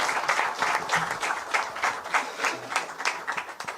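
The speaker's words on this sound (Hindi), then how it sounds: "जरा ताली वाली बजाओ इनके लिए।" An audience at a public event with the chief minister applauds in a steady patter of moderate, slightly distant clapping that keeps up throughout.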